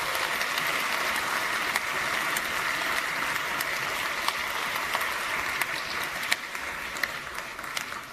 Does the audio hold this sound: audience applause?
yes